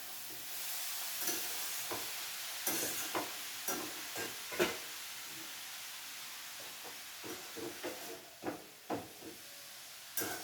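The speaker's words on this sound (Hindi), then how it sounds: "अब इसको मैं चलाऊंगी।" Food stirred in a frying pan: a soft background sizzle under a string of irregular spoon scrapes and clicks against the pan, fairly quiet and close, growing busier toward the end.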